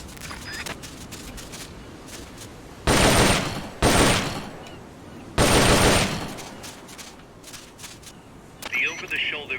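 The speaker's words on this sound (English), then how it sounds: "The M16's a standard assault rifle, capable of rapid fire." M16 assault rifle in the Metal Gear Solid Peace Walker video game, firing three loud bursts of rapid automatic fire between quieter stretches, with light game sounds around them.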